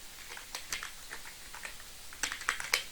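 Numbers are typed on a computer keyboard in a spreadsheet: a quiet run of short, irregular key clicks, growing denser toward the end, with no talk.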